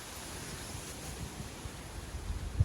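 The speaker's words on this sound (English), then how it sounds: "The wind is there blowing off of the sea" Steady, chilly wind blowing off the sea rushes and buffets past, a soft broadband roar with low gusty thumps growing stronger near the end.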